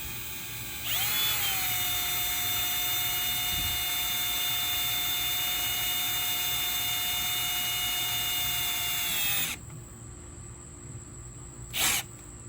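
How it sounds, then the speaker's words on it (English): A power drill drives a bolt into a giant skeleton stand, its motor whining at a steady high pitch for about eight seconds before spinning down, followed by a short clack. "I've got my drill set up with the encrypted bolt head here, so I'm going to go ahead and drill it in."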